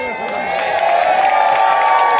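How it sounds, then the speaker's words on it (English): Air show spectators at Blackpool cheer and clap, a loud crowd roar with scattered whoops and clapping, a commentator's voice carrying over the noise. "Massive round of applause"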